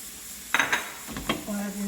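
Spices and salt being stirred into a chicken filling in a pan for mini quiche, with a few clinks of a utensil against the pan and a soft scraping stir, fairly close.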